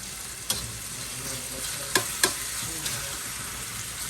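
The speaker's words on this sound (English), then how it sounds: "we'll just keep this rolling as we stir fry" Chicken stir-fries in a pan over high heat, a continuous loud sizzle broken by a few sharp clacks of a utensil against the pan.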